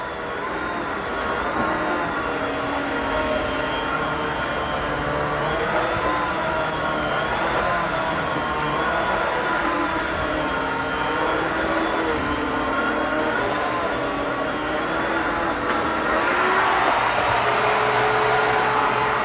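A Kenmore bagless canister vacuum cleaner runs on upstairs carpet, its loud, steady motor whine droning close by throughout with small pitch shifts as the head is pushed around.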